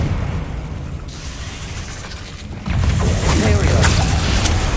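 A Confringo fire spell detonates in Hogwarts Legacy with a deep booming burst that swells into a loud, sustained roar of crackling fire and debris, with voices talking underneath.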